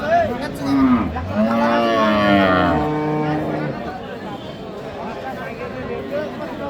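Sahiwal cows at a village cattle market in Dinajpur give a long, drawn-out moo close by, followed by a shorter lowing call, with crowd voices and market chatter underneath.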